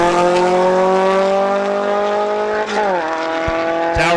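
A GTI drag car launches off the line at Farmington, its engine screaming through rising revs with sharp harmonic whine, then a gear-change dip and brief chirps near the end, close and loud.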